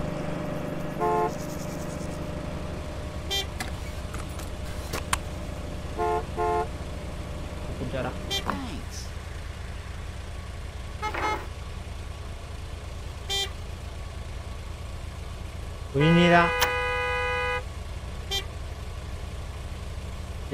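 Traffic rumble in a gas station simulator video game, with a car horn tooting now and then and a louder honk near the end, while people talk.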